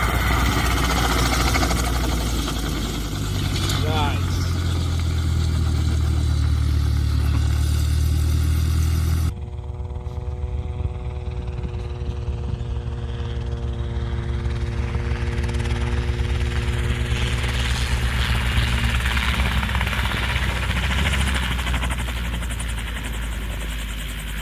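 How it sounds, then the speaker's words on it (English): A Robinson R-22 helicopter practising a full-down autorotation, its rotor and engine droning loudly and steadily throughout, with an abrupt shift in tone partway through as the engine note changes and the blades keep whirring. "Full down auto rotation in the Robinson R-22 helicopter is an emergency landing technique"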